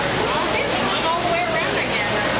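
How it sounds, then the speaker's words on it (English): Loud, steady rushing water fills a cave, a continuous broadband roar like a waterfall with no pauses, drowning out any other sound. "Water is so fucking loud, he has to scream over the water."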